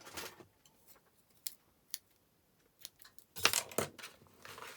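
White baker's twine wrapped around a pretty pillow box being snipped with scissors: a few faint, scattered clicks, then a brief louder cluster of close cutting and rustling near the end.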